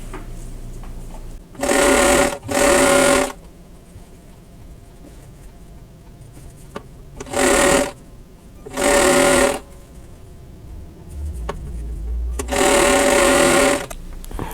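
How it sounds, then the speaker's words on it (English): A sewing machine stitches H fabric squares onto EG quilt units for a folded star block, whirring in five short bursts of one to two seconds separated by quiet pauses. "So I'm going to sew the H squares to the EG units"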